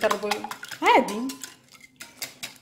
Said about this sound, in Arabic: نضربو هاد البيض مع السكر والزيت مزيان حتى يندمجوا مزيان.